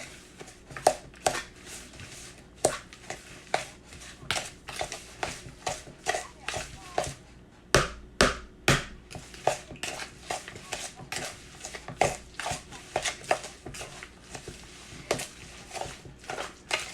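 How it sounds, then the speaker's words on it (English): A spoon stirring pinto beans and ham hocks in a metal pot, with repeated scraping and clinking strokes in an irregular rhythm, close and moderately loud. "Let's stir it up."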